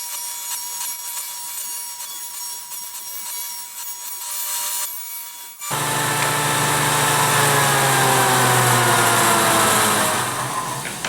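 A power saw cuts a wooden board for a floating picture frame: a steady high whine at first, then a louder, fuller cutting roar as the blade bites into the wood.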